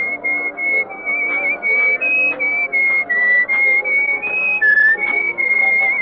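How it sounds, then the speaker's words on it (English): A person whistles a slow melodic tune, clear sustained notes gliding between pitches in phrases with short breaths between them, close and alone over a faint low hum. "you were whistling our tune"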